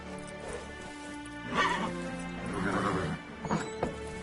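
Roach the horse in The Witcher 3 whinnies and snorts amid clip-clopping hooves, close and clear, with a brief soft vocal sound in the background.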